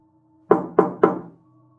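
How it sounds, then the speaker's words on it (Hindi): Three soft knocks land on a door in quick, even succession, each a short resonant thud over a quiet background hum. "दरवाजे पर हल्की सी खटखटाहट हुई।"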